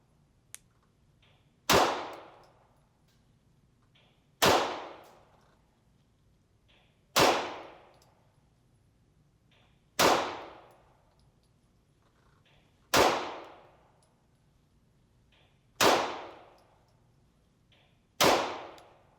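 Seven sharp gunshots from a MAC9 DS Comp pistol firing remanufactured ammunition at a range, spaced evenly about every three seconds, each a loud crack with a ringing decay, and a faint click before the first; no talking.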